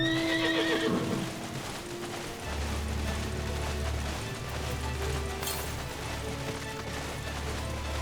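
A horse in the video game Final Fantasy XIV whinnies loudly at the start, then hooves clip-clop in a steady galloping rhythm over a low rumbling background.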